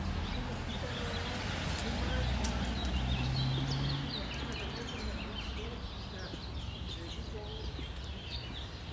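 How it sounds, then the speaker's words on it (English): Birds chirp in Mexico City during the January 2021 lockdown, with faint, scattered calls mixed into outdoor noise and people talking. "I don't know, guys, if you can hear the birds, but it seems like we're in the jungle"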